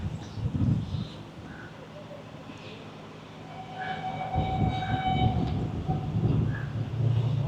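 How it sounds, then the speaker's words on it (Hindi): The 48 Down Rehman Baba Express, running from Peshawar toward Karachi, rumbles past with a steady rolling drone. A distant horn sounds in the middle and the noise grows louder toward the end. "आज के दिन की हमारी आखिरी ट्रेन है जो है 48 डाउन रहमान बाबा एक्सप्रेस"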